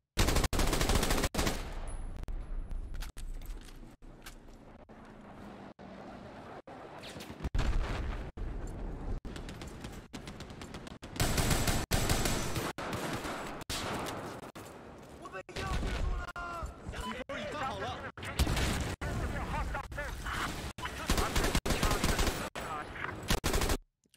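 Bass-enhanced gunfire from a first-person shooter video game plays as rapid automatic bursts and booming shots, with brief gaps between volleys, all at moderate level.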